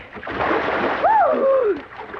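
A person dives into deep, clear water, giving a single brief, rushing splash, close and fairly loud, followed by a whistling, swooping tone.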